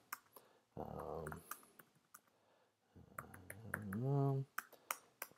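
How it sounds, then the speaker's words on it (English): Someone types on a computer keyboard while entering a name and details into an online form, with scattered key clicks and short bursts of typing between stretches of speech. "So I'm going to type in my name"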